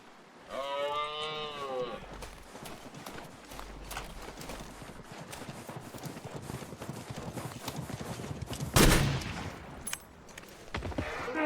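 A moose in The Long Dark lets out one drawn-out, bellowing call near the start. Quieter shuffling movement follows, then a sharp crack late on.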